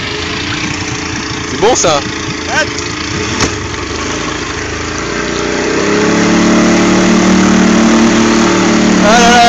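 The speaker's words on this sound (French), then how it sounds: "Le moteur cale." A small motor engine at a Quiberon Bay surf spot in Brittany turns over with sputtering strokes among voices, then settles into a rising, struggling drone with no clear stall.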